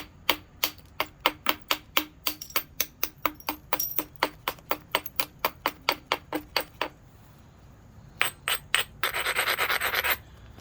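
Edge of a flint piece being abraded to a bevel during knapping, a close series of quick, sharp rasping strokes in steady rhythm, pausing briefly, then a few more strokes and a denser scratchy burst at the end.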